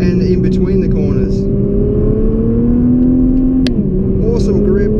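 A 2017 Nissan GT-R driven hard through corners on the Great Ocean Road, heard from inside as a loud, steady engine drone that climbs gradually, dips briefly, then settles again.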